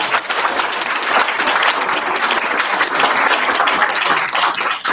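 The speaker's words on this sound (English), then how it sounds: "Can we get one more round of applause for Superintendent?" An audience at a school district board meeting applauds the superintendent with loud, continuous clapping that stays steady throughout.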